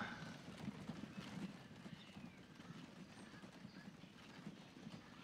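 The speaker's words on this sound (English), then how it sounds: "So we got our 4 horses going out" Hooves clip-clop steadily at a walking pace, four horses together, with a faint whinny now and then in the background, in the game Transport Fever, Wild West setting.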